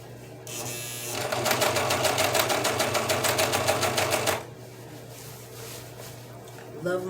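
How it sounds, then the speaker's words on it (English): A serger sewing machine stitches a seam on a simple pair of pants in a rapid, even mechanical whir lasting a few seconds before it stops. Quieter room noise and a bit of talking follow. "Love my serger sewing machine."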